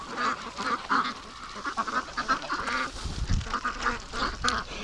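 Ducks and a goose quack and honk in repeated short bursts at a pen by a creek and lake, moderately close and fairly quiet, with no talking.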